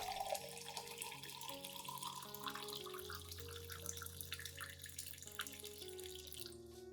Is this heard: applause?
no